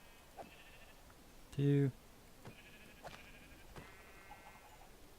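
A single sheep bleat from the video game Minecraft rises loud and brief over quiet game background, with scattered faint clicks and someone talking nearby.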